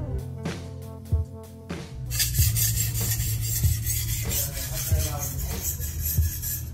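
A single-bevel Japanese kitchen knife is drawn across a sharpening stone in light, repeated rasping strokes that start after a few sharp taps, the scraping sound close and continuous.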